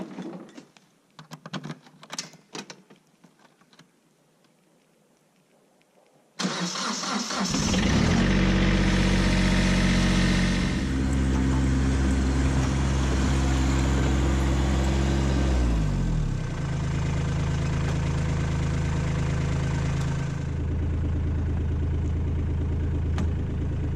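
A STIHL chainsaw engine, choked then started, catches with a loud burst and settles into a steady buzzing idle that drops slightly in pitch partway through, following a few seconds of quiet clicks and handling noises.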